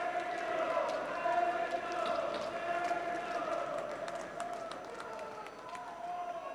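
Tennis crowd at Roland-Garros during the Djokovic–Nadal semi-final, a steady roar of cheering and applause from a large stadium audience, continuous and fairly even throughout.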